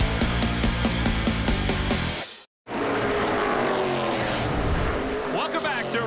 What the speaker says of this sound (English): as we ride on board now with a Castrol Edge Dodge